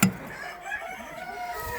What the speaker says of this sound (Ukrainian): Дивися, образили півня, як затягує.